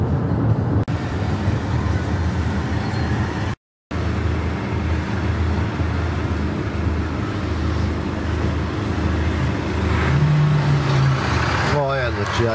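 Car cruising steadily along a Polish motorway toward toll gates, a constant low road and engine rumble with wind noise throughout, briefly cut out once, with a voice talking over it near the end.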